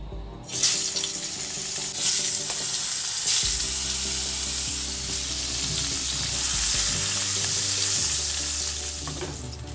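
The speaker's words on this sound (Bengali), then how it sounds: "ওই মাছ ভাজা তেলের মধ্যে এই যে আমি বেগুনগুলো কেটেছি লম্বা লম্বা করে, নুন হলুদ মাখিয়ে নিয়েছি। এবার আমি এই তেলে ভেজে নেব।" Long strips of salted, turmeric-coated eggplant sizzle steadily in fish-frying oil in a pan, a close, continuous crackle with occasional stirring and no talk.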